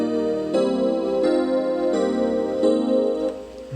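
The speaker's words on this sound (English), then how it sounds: "It's like an electric piano style sound," Electric piano style chords from a Korg M1, a classic 80s sound, playing sustained harmonic chord changes roughly every 0.7 seconds at steady, full loudness with no voices.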